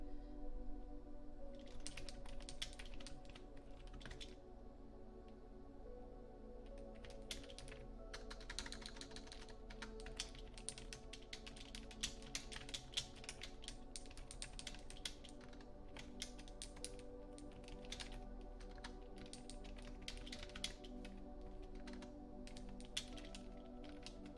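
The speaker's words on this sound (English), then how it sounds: "Can you hear the keyboard?" Steady clicking of computer keys being typed, in irregular bursts and runs over a constant low background hum, close by and moderately quiet.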